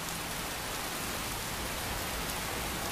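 Steady, dense rain pours down in the modded Skyrim video game, a continuous loud hiss of drops on surfaces with no breaks or voices.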